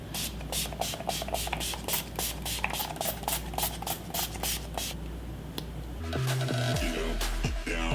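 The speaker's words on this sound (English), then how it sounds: "I'm just adding a little bit of spray so all the powder can just melt into my skin" A rapid string of short bursts of setting spray onto a face hisses in quick succession, then gives way to a steadier, lower rushing sound near the end.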